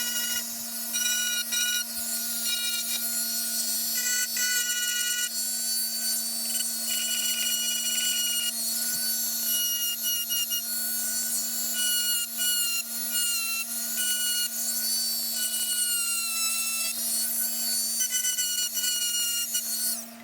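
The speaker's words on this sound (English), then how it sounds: "we are ready to come in with our little Dremel tool and just kind of smooth them out" A small Dremel rotary tool sands snipped parts smooth on a Squier Stratocaster guitar body, producing a steady high-pitched whine with a low hum beneath and brief shifts in pitch as it bears on the wood.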